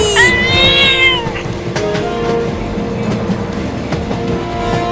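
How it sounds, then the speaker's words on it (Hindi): A cat gives a loud, drawn-out meow near the start, followed by a steady engine-like rumble and scattered clicks. "ये खतरनाक बिल्ली मुझे काट लेगी"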